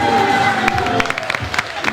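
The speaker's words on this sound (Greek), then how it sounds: "Ένα μεγάλο θερμό χειροκρότημα για σας" A theatre audience at a Greek stage comedy claps in a brief, dense burst of applause with scattered cheers, mixed with a sustained musical tone and some voices.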